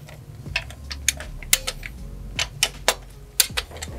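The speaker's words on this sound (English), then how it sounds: "We're gonna go ahead and install these upper bolts at the top of the cylinder head" Wrench clicking as the upper cylinder head bolts are tightened on a Hemi engine in a Challenger build, sharp ratchet-like ticks scattered irregularly, close and moderately loud, with no talk.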